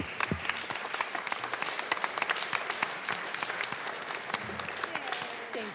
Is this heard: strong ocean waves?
no